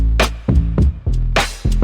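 A simple, poppy R&B/pop drum pattern made in FL Studio plays together with a booming bass line, as thumping kicks and bright snare cracks land over sustained low bass notes, loud and upfront.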